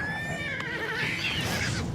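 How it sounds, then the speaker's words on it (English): A paint horse in Oblivion Remastered lets out a loud, close, drawn-out whinny with a wavering high pitch while battling an imp, amid game noise. "The paint horse fighting an imp."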